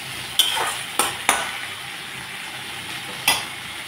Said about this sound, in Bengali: সবজির সাথে আমি চিংড়ি মাছগুলোকে ভাজা করে নিলাম।